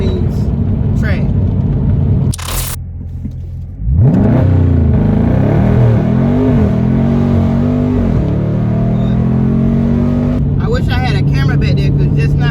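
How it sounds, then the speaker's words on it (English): A Dodge Charger Scat Pack in track mode spins its tires, the engine roaring loud and close with a rising, wavering whine after a short quiet gap, and a voice speaks over part of it. "I was spinning like crazy just now"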